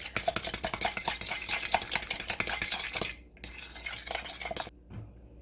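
A spoon scrapes and clacks rhythmically against a bowl while stirring a sour cream dip mixture for a BLT dip. The strokes are close and quick, then pause briefly and resume before stopping.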